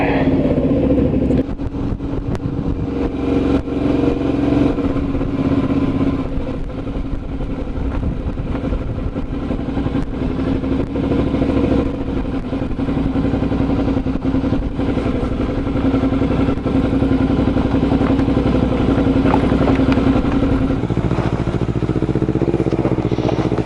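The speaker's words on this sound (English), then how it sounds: "There she goes, Adventure Girl on the Z300, bit off-roading" A Z300 motorcycle ridden off-road beside a waterside picnic spot, its engine droning steadily and fairly loud for the whole stretch, with rattles and shifts in revs as it moves over rough ground.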